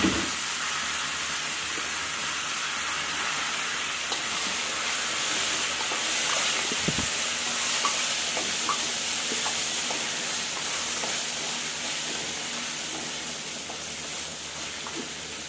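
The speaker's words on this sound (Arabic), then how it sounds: "تقلبي بقى فيه شمال ويمين كده لغايه ما يتشوح ويشرب السمنه معاكي" Washed rice stir-fried with golden toasted vermicelli in ghee, a steady loud sizzle and hiss running throughout with faint scattered scrapes of stirring.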